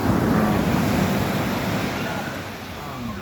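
Ocean waves surge and wash continuously close by, a broad loud roar with wind buffeting the microphone and a voice faintly underneath.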